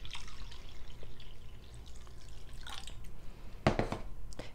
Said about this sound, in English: Add some room temperature water,